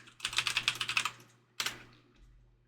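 A quick, rhythmic burst of about a dozen keystrokes on a computer keyboard to search online, close and crisp, then a pause and one louder final key press that trails off.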